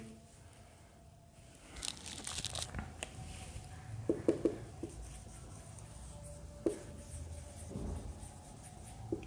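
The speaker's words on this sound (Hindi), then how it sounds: "तो यहाँ पे वर्डिंग लिख देंगे" Marker or chalk writing on a board during a physics lecture on heat, with scratchy strokes and a few sharp taps over a faint room hum, no talk.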